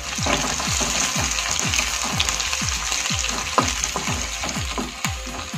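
Ingredients and garlic fry in a pan with a bright, steady sizzle. A regular series of low thuds and scrapes from stirring repeats roughly every half second, and no one speaks.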